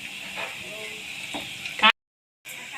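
Lentil fritters (biulir dal pakora) frying in hot oil with a constant close sizzle and occasional stirring scrapes, then a brief silence before the sizzle resumes.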